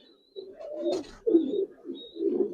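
Giribaz pigeons coo at close range, a few soft, low, rolling coos in short bursts with brief pauses, fairly quiet.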